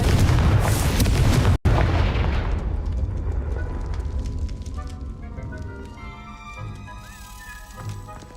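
A Confringo fire spell blast in the video game Hogwarts Legacy: a loud booming explosion with a rumbling tail that fades over several seconds into quieter game ambience.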